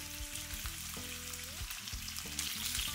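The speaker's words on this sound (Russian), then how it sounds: "добавляем немного растительного масла, разогреваем, выкладываем жариться курицу кожицей вниз." Steady hissing sizzle of skin-on chicken frying in hot vegetable oil, continuous and close, with some low tonal hum underneath.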